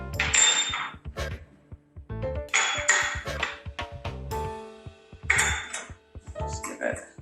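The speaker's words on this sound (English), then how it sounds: "the first thing you want to do is just gently mix all of your dry ingredients together" Dry pumpkin pie ingredients stirred together in a bowl, with repeated clinks and scrapes of a utensil against the bowl coming in close, irregular bursts.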